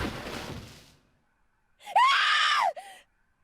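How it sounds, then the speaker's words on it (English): A woman's scream from the Zero Escape: 999 video game, a single loud, sustained shriek rising and falling, preceded by a fading noisy sound and then silence. "Another scream filled the room."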